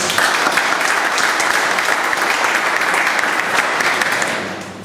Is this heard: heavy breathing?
no